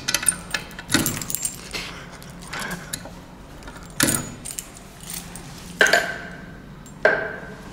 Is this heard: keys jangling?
yes